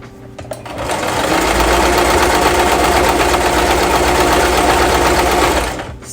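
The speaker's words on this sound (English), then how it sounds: "I'm just going to do this on a straight stitch." A sewing machine runs a straight stitch on satin lining for a knit beanie, with a steady, close, fast mechanical whir that starts after a click and stops after about five seconds.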